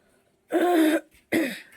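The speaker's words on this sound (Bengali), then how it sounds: "স্নান করে কাশি শুরু হয়ে গেছে" A person clears their throat and coughs after a bath: two close, raspy bursts, the first longer and the second shorter, heard alone in a quiet room.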